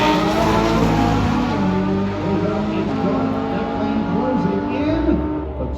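A Ferrari 458 with an IPE exhaust roars loudly and steadily at a drag race, its engine tone swelling and shifting pitch over a dense, continuous blast of noise.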